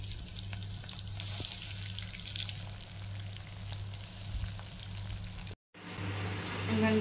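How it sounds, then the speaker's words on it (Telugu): Long sliced onions fry in a pan for a chicken biryani, a steady crackling sizzle with a low hum beneath that cuts out briefly near the end, then resumes. "ఉల్లిపాయలు ఫ్రై చేసుకోవాలి"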